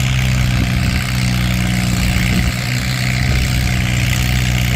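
A steady, loud antique tractor engine runs at a tractor pull, a constant low mechanical drone with no break for nearly five seconds and no voices over it.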